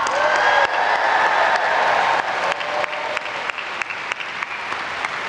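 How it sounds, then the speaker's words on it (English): Sustained crowd applause for the Cal Band marching band at the 150th Charter Day celebration, dense and steady from a large audience with a few sharp claps standing out as it slowly tapers. "Let's give them a big round of applause"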